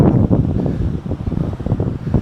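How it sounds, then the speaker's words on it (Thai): Strong wind buffets the microphone at the Laem Tanot lighthouse on a naval area headland, Krabi, producing loud continuous low rumbling gusts throughout with no speech. "ข้างบนลมแรงมากไม่แน่ใจว่า ไม่จะมีเสียง"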